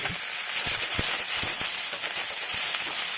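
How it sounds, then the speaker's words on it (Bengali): Chopped onions, green chillies and capsicum frying in a pan on high flame, a loud continuous sizzle with scattered sharp crackles and pops, close and alone. "পেঁয়াজটাকে হাই ফ্লেমে প্রায় 3-4 মিনিট ভেজে নেব"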